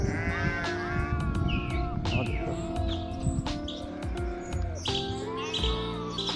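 Several mountain goats bleat repeatedly at close range on the Kheerganga trek, their calls overlapping and wavering, with faint bird chirps in the background.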